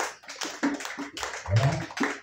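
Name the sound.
church congregation applauding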